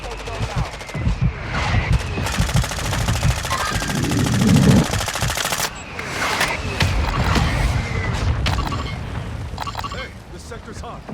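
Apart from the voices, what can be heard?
gunfire in Call of Duty Warzone 2.0 video game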